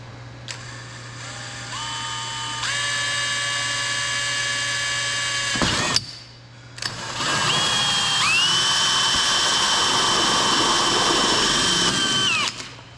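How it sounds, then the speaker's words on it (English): A hole saw chucked in a power drill bores holes through a car bumper, close up: two long, loud whining runs with rising pitch as the motor spools, separated by a brief stop, with a steady hum underneath. "we're going to get the hole saw on the drill and chop holes in this bumper"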